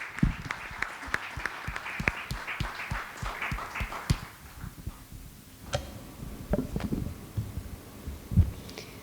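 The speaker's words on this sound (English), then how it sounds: "Let's give them a big round of applause." Audience applause for a CEO panel at a corporate conference session, dense clapping filling the room for about four seconds, then thinning into scattered claps and a few louder individual ones.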